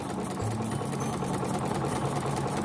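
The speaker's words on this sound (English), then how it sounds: "as I push it through the machine, it just gathers it up" Sewing machine stitching fabric to gather a ruffle, a steady close mechanical whir with a fast needle chatter, running continuously without talk.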